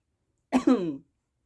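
A single close, throaty cough, short and rough, with silence before and after.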